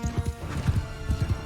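Galloping horse hooves in the medieval combat game Mount & Blade II Bannerlord, a quick rhythmic clip-clop of repeated hoofbeats, moderately close and fairly quiet, with no talk over it.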